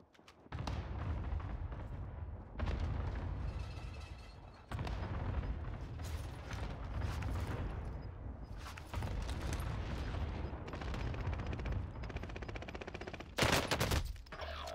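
Gunfire in Call of Duty: Warzone rattles in loud automatic bursts separated by brief pauses, with a sharp crack near the end.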